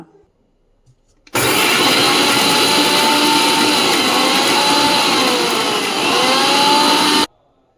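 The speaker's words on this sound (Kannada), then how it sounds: "ಸ್ವಲ್ಪ ಉಪ್ಪನ್ನು ಹಾಕಿಬಿಟ್ಟು ಮಿಕ್ಸಿಯಲ್ಲಿ ರುಬ್ಕೊಂಬರೋಣ" A kitchen mixer grinder grinds garlic, coriander leaves and salt into a coarse paste, its motor starting abruptly into a loud, steady whirring roar that holds for about six seconds before cutting off.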